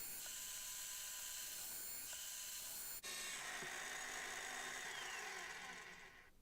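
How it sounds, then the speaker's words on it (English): A countersink bit bores into scrap-wood side and back panels of a hammer rack, a loud steady whine of the power drill running nearly continuously, with a brief pause near the middle before spinning up again. "Then I used a countersink bit on the opposite side of the side panels and on the back panel."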